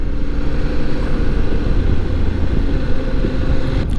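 CF Moto 800 MT motorcycle ridden in sport mode, a steady loud engine drone with heavy low rumble and wind buffeting throughout, no voices.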